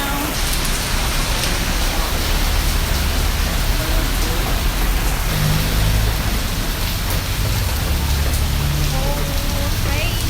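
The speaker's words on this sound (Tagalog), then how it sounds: "It's raining here right now." Steady, dense rain falls on surfaces close by as a constant hiss and patter with no breaks.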